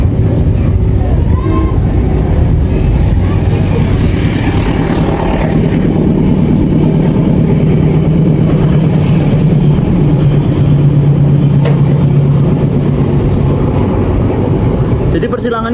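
The Pasundan train rolls past at Kasugihan station, a loud, steady rumble and rattle of rail cars that fills the whole stretch without a break, with faint voices in the background.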